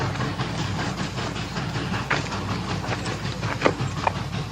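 Old-era steam train pulling into a frontier station: a continuous rumbling roll with rhythmic clanks and a few sharper metallic knocks, loud and close, no voices.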